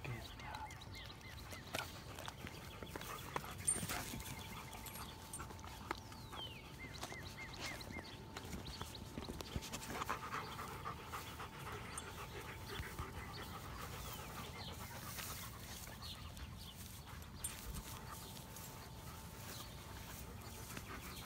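A dog pants faintly and steadily in the background, with quick, rhythmic breaths continuing throughout a long quiet stretch.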